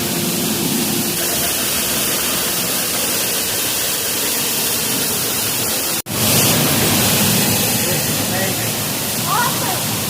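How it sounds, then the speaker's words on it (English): A waterfall at Dry Falls in western North Carolina roars as a loud, steady wash of spray close by, with people talking faintly under the constant rush and a brief dropout midway. "You just walked under a waterfall."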